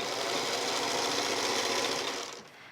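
A sewing machine stitches stretched t-shirt fabric for a gaiter mask, a steady fast rattling hum running continuously at close range before fading out at the end.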